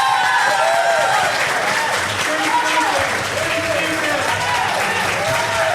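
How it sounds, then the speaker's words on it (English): Applause from the audience at a 2025 mayoral candidate debate, a thick wash of clapping from a large crowd, steady and loud, with voices and cheers mixed in. "please give these candidates a great big round of applause"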